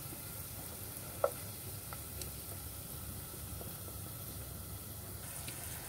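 Spring rolls searing in oil in a pan give off an even, moderate sizzling hiss with an occasional small pop or clink, steady throughout and heard without speech.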